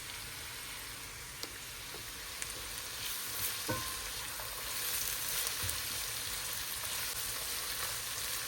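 Ginger garlic paste and chopped onion sauté in a hot pan with a constant soft sizzle and crackle, interrupted by a few faint clinks of stirring, with no voices.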